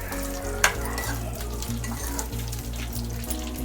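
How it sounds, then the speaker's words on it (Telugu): Green chillies frying in about two spoons of oil for a spiced pickle, a soft continuous sizzle with occasional stirring clicks and one sharp scrape, heard up close over a low background hum. "ఒక 2 స్పూన్లు ఆయిల్ వేసి వేయించుకున్నాను."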